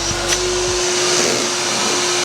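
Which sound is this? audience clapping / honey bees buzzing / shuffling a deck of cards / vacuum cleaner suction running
vacuum cleaner suction running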